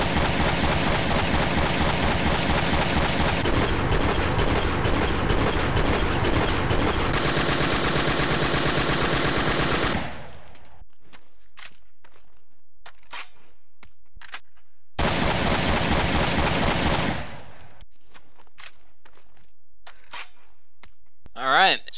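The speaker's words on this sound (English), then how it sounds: "the return of the legendary High Roller, also known as the Golden AK-7" Bursts of gunfire from the High Roller Golden AK-7 assault rifle in Resident Evil Revelations 2, dense loud shots for about ten seconds, then faint clicks, another short burst, and a brief thump at the end.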